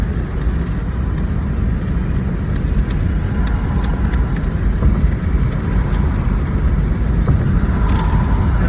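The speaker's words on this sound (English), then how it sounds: "Warming the tires up, boys." A car driving at night on an empty road, its tires warmed up: a steady, loud broadband engine and road rumble that holds evenly throughout, with no talking.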